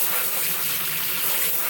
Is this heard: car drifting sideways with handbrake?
no